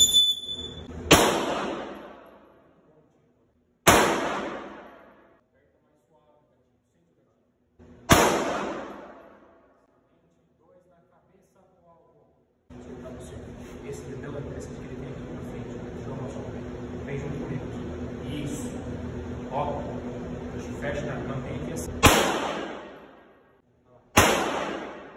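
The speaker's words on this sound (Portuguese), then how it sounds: "você vai efetuar 3 disparos no seu tempo, no centro do alvo" A PSTL 1911 pistol in .380 fires at an indoor range, with sharp, loud single shots spaced seconds apart, each leaving a short echo. A stretch of talk with background hum sits between the shots.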